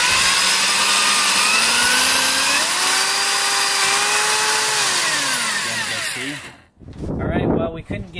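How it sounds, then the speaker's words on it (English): A power drill bores through the body of a 2014 Dodge Durango R/T to fit a tow baseplate. It is a loud, close, sustained whine that rises in pitch, then winds down and cuts out, followed by a short burst of handling noise. "we couldn't get through with the other drill bits, so we went and bought some of these"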